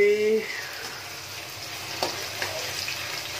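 Potatoes frying in oil give a faint, steady sizzle with a soft hiss, after a brief tone at the very start.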